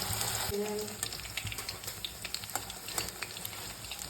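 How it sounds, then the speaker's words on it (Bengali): Onion fritters (peyaji) frying in smoking-hot oil in a kadai: a steady bubbling sizzle close by, broken by sharp scraping and tapping clinks of a metal spatula at irregular intervals, no voices. "তেলটাও গরম হয়ে গেছে ধোঁয়া উঠছে এবার পেঁয়াজি ছেড়ে দিচ্ছে"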